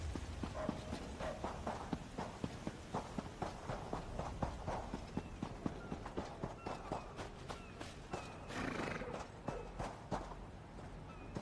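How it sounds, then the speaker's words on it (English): Horses' hooves clip-clop steadily in the fantasy video game Elder Scrolls Online, a run of regular, close hoofbeats carrying on through the whole stretch over ambient game noise, with no one talking. "Just some horses."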